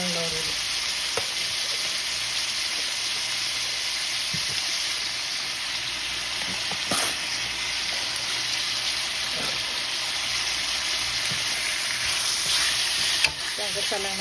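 Chicken adobo with bay leaves sears in a pan, giving a loud, steady sizzle and crackle that runs throughout, with occasional clinks and scrapes of a utensil.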